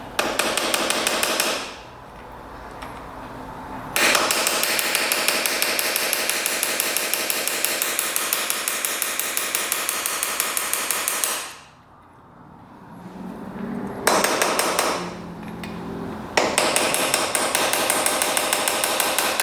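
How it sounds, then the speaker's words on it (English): A hammer strikes a metal punch against a seized piston on a 1974 two-stroke 750cc motorcycle. Loud, rapid metallic taps come in long sustained bursts separated by brief pauses, very close. "just lightly tap on that with a punch and see if that comes free"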